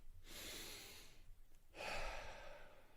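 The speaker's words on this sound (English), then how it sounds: "Take a deep breath." A person takes a deep breath: a long, close airy inhale, a short pause, then a fuller breath out, with no talking.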